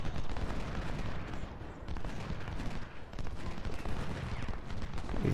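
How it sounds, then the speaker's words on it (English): Cannon and artillery fire in the Civil War strategy game Ultimate General: Civil War, a dense, continuous rumble of booming shots and crackling gunfire that holds steady and loud across the whole stretch. "Finally have our cannon up here to help a little bit."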